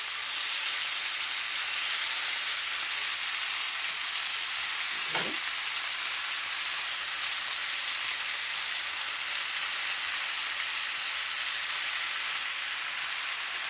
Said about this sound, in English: I'm just going to let these fry